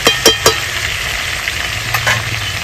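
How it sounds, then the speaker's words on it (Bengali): Pre-fried potato pieces go into a pot of mutton curry and get stirred, bringing a few sharp scraping knocks of the spoon over a steady close sizzle, with no talking. "দিয়ে দিচ্ছি ভেজে রাখা আলুর টুকরোগুলো।"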